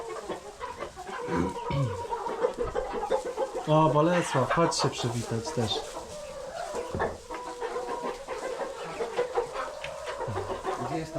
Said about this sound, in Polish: Te kogutki są takie śliczne